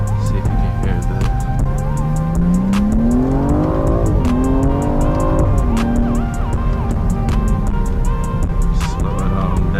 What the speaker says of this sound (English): when I downshift, I get those burbles